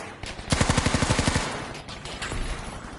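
Rapid automatic gunfire in the first-person shooter Battlefield during a competitive match: a tight burst of about ten evenly spaced shots, loud and close, stops abruptly, then scattered distant game noise follows.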